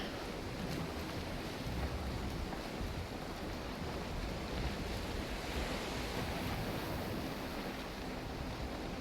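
Stormy ocean waves in Valheim roll and crash in a steady, dense wash of surf mixed with wind, constant and moderately loud throughout with no voices.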